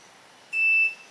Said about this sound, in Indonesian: Jika diaktifkan, maka indikator dari hazard dan buzzer akan menyala.